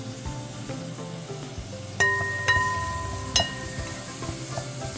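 Onions fry in melted butter in a hot pan, giving a steady close sizzle with a few clinks and stirring knocks from a utensil against the pan.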